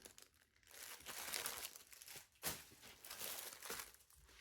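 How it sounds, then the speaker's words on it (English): Plastic packaging crinkling steadily and quietly close by, with a sharper crackle partway through, during a craft supply haul. "I really thought that the crinkling was over,"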